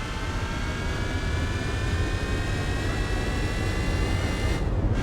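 High-revving V10 engine near 9,000 RPM in Gran Turismo 4, pulling hard uphill in third gear; a steady, loud, continuous whine with dense harmonics holds throughout, cutting off sharply at the very end.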